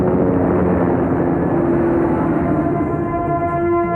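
Continuous loud helicopter-like drone with steady rotor and engine tones under tense music in a film action climax, a sustained mechanical roar with no break across the moment.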